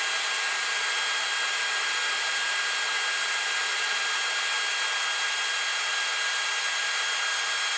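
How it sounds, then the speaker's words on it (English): A Dyson hair styler blows air in a loud, continuous high-pitched whoosh with a steady hum, close by and unbroken. "Does sound like a hairdryer, it's quite noisy"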